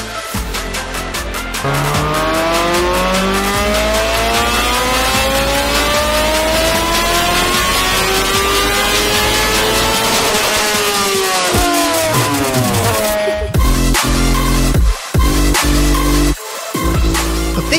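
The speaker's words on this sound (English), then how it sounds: "a mixture of cars and motorbikes making display runs on the Coventry Ring Road" Cars and motorbikes make display runs on the Coventry Ring Road at a street racing event, loud engines revving hard and sweeping past in rising and falling waves with gear changes, near and continuous.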